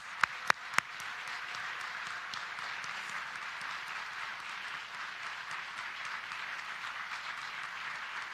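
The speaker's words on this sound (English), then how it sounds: "let's have one more round of applause for all of the 2022 191 Community of Excellence Award winners" Audience applause for award winners at a community excellence awards ceremony, a few sharp close claps at the start and then a steady, even wash of distant clapping throughout.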